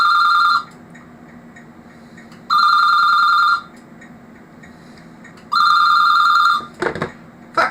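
A Telecom 9003R landline telephone rings in three clear bursts of about a second each, spaced by two-second gaps, close and loud with no talk over it, followed by a brief clatter at the end.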